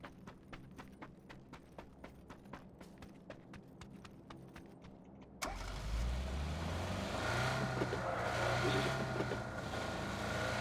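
Video game car engine: a rapid regular clip-clop patter of footsteps first, then a vehicle engine starting up abruptly and droning steadily as the car drives off, no speech heard.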